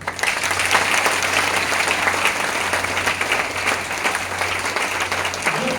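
A crowd of people applauds together in dense, sustained clapping that stays loud and close throughout, with no speech over it.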